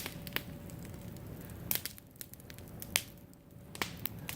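A backyard bonfire crackling close by, with sharp scattered pops and snaps over a low steady hiss, no talking.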